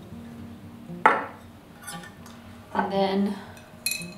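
A metal tablespoon clinks twice against a glass sourdough starter jar while flour is added, one sharp knock early and a longer scraping clatter later, with someone speaking briefly between them.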